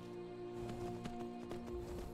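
Horse hooves clip-clop at a steady walking rhythm in VR Skyrim, close and continuous with a few sharper thuds, over a low background hum.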